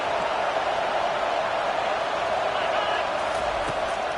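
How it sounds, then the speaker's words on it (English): A stadium crowd at an American football game sends up a broad, sustained roar of cheering and noise that stays loud and steady throughout, with no clear single voices. "And here comes the noise. This crowd is trying to inspire this defense to make a big red zone stop."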